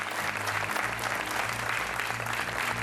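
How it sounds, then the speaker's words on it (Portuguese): A game-show studio audience claps in a steady, even burst of applause, dense and moderately loud, with a faint murmur of crowd underneath. "Mais 5 segundos de palmas para este homem."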